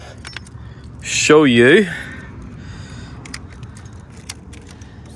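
Keys for a Triumph Tiger Sport 660 motorcycle jangle in short metallic clinks scattered through the clip, while someone briefly speaks in the middle.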